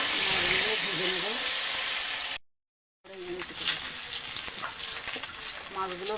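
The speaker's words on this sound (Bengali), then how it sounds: "মাছগুলো ভেজে নেব।" Fish sizzles and hisses as it fries in oil in a wok, a steady crackling bed of sound broken by a brief silent gap, while a person talks over it.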